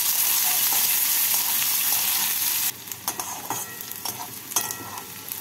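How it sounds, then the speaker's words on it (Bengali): Chopped onions fry in a pan until light brown for a methi rajma curry: a loud, dense sizzle for a few seconds, then a quieter crackle with distinct clicks and scrapes of stirring. "পেঁয়াজটাকে হালকা বাদামি করে ভেজে নিলাম।"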